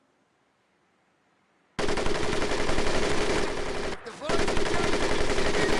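A machine gun in Medal of Honor: Pacific Assault bursts in after a moment of silence, blasting a loud, sustained stream of rapid shots that breaks off briefly and then resumes at full force.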